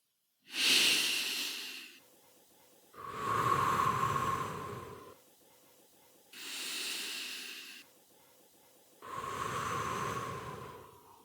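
Slow, deliberate breaths drawn in and pushed out, four long airy strokes alternating inhale and exhale, close and clear with quiet pauses between, no voice.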